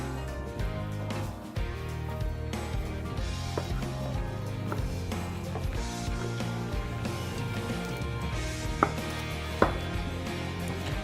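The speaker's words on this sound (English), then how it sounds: "we're going to take off a beautiful tomahawk steak from the side here" A knife works along the rib bone of a Wagyu rib, cutting off a tomahawk steak, close and steady slicing and scraping of blade on meat and bone, with a couple of sharper knocks near the end.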